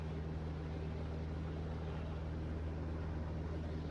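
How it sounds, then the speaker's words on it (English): A light aircraft engine drones at reduced power after the throttle is pulled back on level-off, a steady low hum with a constant propeller beat, heard continuously and fairly quietly from inside the cabin without talk. "pull the throttle back to keep the RPM from winding up too high"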